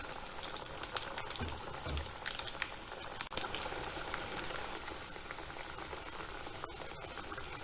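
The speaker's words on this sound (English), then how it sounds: "Fry them and keep flipping them over till you're happy with the color." Chickpea and cottage cheese cutlets fry in hot oil, giving a steady, dense sizzle and bubbling that runs the whole time, close and fairly even, with a brief clatter partway through.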